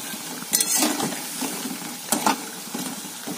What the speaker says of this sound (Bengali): অল্প তেলে ভাজছি তাতে এত সুন্দর ফুলেছে